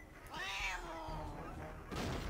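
A cartoonish cat meows once in the Coraline video game, a drawn-out, wavering yowl that sits close and clear with no talk over it, followed by a short thump near the end.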